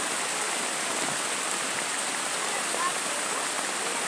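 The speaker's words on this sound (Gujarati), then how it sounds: "તો તમે જોઈ રહ્યા છે આવો વરસાદ પડે છે" Heavy rain pours down in a steady, loud, unbroken hiss, close by and filling the whole stretch without pause.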